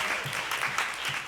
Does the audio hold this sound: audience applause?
yes